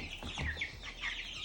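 Meat chickens on a homestead cluck in a quick, close run of short calls, with several birds overlapping and no talk.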